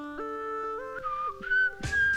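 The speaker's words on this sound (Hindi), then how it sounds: "सीटी क्यों बजा रहे हो" A person whistles a short, clear melody of sustained and sliding tones, close and alone, ending with a brief breathy burst.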